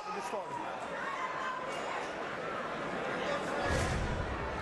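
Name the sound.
fight crowd reacting enthusiastically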